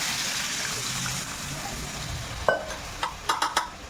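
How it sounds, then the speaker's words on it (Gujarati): Water is splashed into hot oil tempered with asafoetida in a pot for Gujarati rajvadi dhokli shaak, giving a steady loud hiss. A few sharp clinks and splashes come near the end. "હવે આપણે આમાં 2 ગ્લાસ જેટલો પાણીનો વઘાર કરશું."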